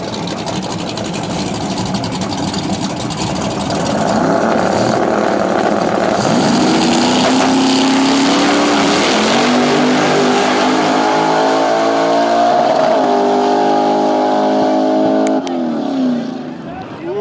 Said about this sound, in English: And then Geek, she's got her nitrous powered Camaro over here.